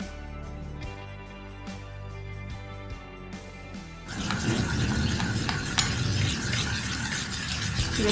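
Melted soap base being stirred with a green juice mixture, a soft scraping swirl that starts faint and becomes louder and steadier partway through, with light clinks of a spoon against the container.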